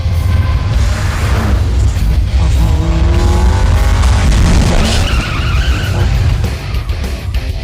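Fast car racing with tires skidding and squealing, a loud sustained engine roar with screeching tire sounds rising and falling throughout.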